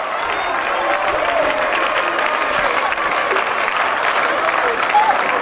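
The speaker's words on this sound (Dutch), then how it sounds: "En een terecht applaus voor een schitterende goal van nummer 21, Sophie Kamp" Spectators applaud a goal at a Dutch hoofdklasse field hockey match, steady clapping with some cheering throughout.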